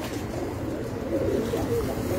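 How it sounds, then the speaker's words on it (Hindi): Pigeon cooing on a rooftop loft, soft low rolling coos repeated at close range over a steady murmur of background noise. "ये भी बहुत अच्छा कबूतर है मेरा"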